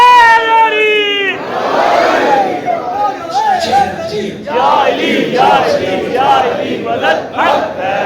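A large crowd at a religious gathering chants slogans in loud, rhythmic unison, a lead voice calling out first and the mass of voices answering in repeated surging shouts.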